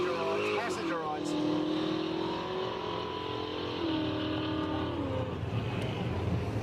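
A street-racing car pulls away at a Quick Street event in Australia. The engine revs hard and its note climbs and falls through the gears, loud and steady, with a voice talking over it.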